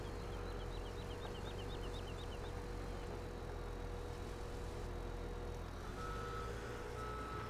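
An old truck reverses in Farming Simulator 17, its backup alarm beeping in a quick regular series over a steady low engine drone, with a second tone entering near the end.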